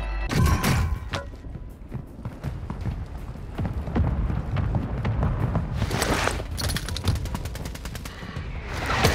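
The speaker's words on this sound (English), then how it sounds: "Hostiles launched a mortar strike." Dense, loud battlefield gunfire and booming impacts fill a Call of Duty: Modern Warfare II match during a mortar strike, with rapid automatic fire and heavy thuds rolling continuously close by.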